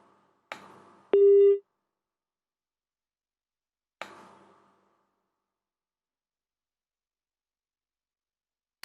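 A telephone busy tone sounds on a live television call-in line after the caller's connection drops, one loud steady beep standing alone between faint knocks and clicks, then quiet.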